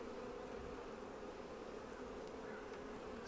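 Honey bees buzz steadily and loudly on a lifted brood frame during a Flow Hive inspection, a dense continuous hum close by with no talk.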